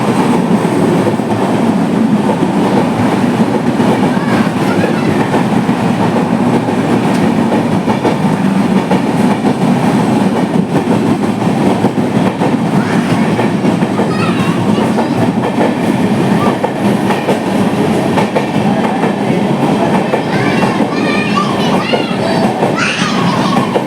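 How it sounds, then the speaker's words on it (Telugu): A goods train rolls along the tracks close by, with a steady loud rumble and rhythmic clatter of wagons running continuously throughout, and faint voices in the background. "ట్రైన్ హారన్ ఇస్తుంది, గూడ్స్ ఉన్నది పట్టాల మీద."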